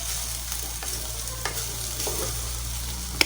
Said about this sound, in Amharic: እሳት በጣም ቀንሳችሁ ነው መጥበስ ያለባችሁ፣ ምክንያቱም ይቃጠላል።